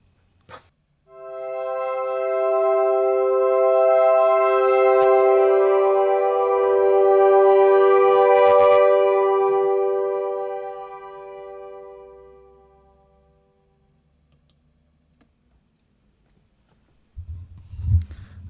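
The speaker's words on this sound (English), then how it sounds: "This is my synth sound and this is my world sound." A single sustained synthesizer tone swells in and holds for about ten seconds, then fades into room quiet, followed by a soft knock or rustle at the end.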